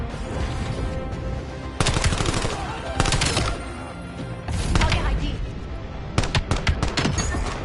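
Rapid bursts of automatic gunfire from a video game weapon, loud and close, with several separate volleys of fast repeated shots and brief pauses between them.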